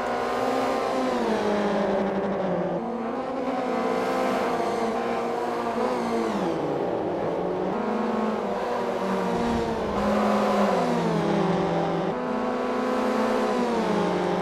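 Several race cars in a BTCC racing video game run nose to tail out of a ravine at Camino, their engines droning and shifting pitch together in a steady, loud, continuous roar with no talk.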